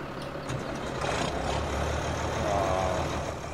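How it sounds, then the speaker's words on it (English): A Ford tractor engine in Farming Simulator 17 hums and rumbles steadily at a constant, fairly loud level, with no one speaking. "I love this tractor. What a sound."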